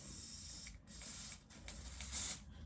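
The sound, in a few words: spraying hair spray onto finger during wig install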